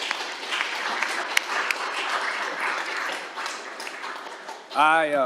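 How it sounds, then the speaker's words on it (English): Steady applause from a crowd at a city council meeting honoring the boys and girls varsity soccer teams, sustained clapping that ends as a voice begins speaking. "one more round of applause for the boys and girls varsity soccer"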